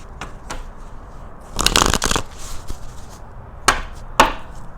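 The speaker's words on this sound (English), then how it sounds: "one more shuffle" Tarot cards being shuffled by hand in a quiet room, a few soft riffling bursts with sharp taps and flutters between them, close and fairly loud.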